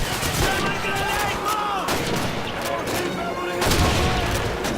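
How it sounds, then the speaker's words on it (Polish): Submachine gun fire in the Call of Duty 2 video game rattles in bursts amid continuous battle noise, with a player talking over the shooting. "Poprawimy mu z MP. Ten jeden strzał."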